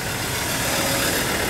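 Diesel engine of a four-wheel drive wagon idling close by, a loud, steady, even clatter and hum with no speech.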